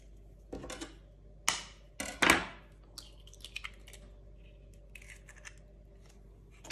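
Eggs cracked into a bowl while making quick yeast-free soft bälish pastry dough with butter, a few sharp close taps and cracks followed by a wet crackling spill, then quiet kitchen clatter.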